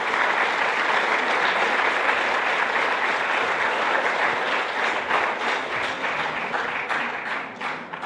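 A church congregation applauding at a farewell service, dense sustained clapping that stays loud and close before thinning slightly toward the end.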